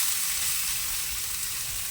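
Grated filling frying in a little hot oil in a wok, a steady bright sizzle holding close and even throughout with no voices.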